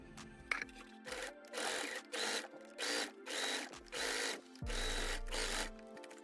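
A sewing machine stitches the seam of a fabric bag, running in about six short bursts of close, steady whirring separated by brief pauses, with a longer final run.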